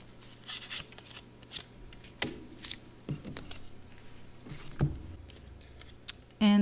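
Oracle cards are shuffled and drawn from a deck in a series of close, crisp riffles and soft papery slaps, with sharper snaps scattered throughout and no talking.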